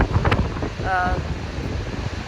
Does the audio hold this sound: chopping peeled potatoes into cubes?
no